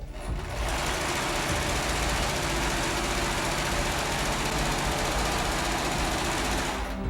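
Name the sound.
sewing machine hemming the sides of a fabric tunic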